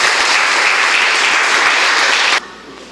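Applause at a collective wedding ceremony after the ring exchange, a crowd clapping loud and steady for over two seconds before cutting off abruptly into quieter room tone.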